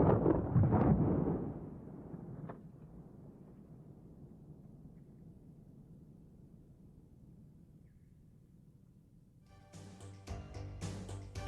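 A shotgun fires strung buckshot into ballistic gel: one loud, deep blast opens, then a long rumbling decay fades away, and a brief burst of noise returns at the end, with no voices.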